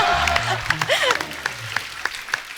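A studio audience on The Kapil Sharma Show applauds for a singer, scattered claps and a few cheers rising under a talking voice and background sound, thinning into separate sharp claps.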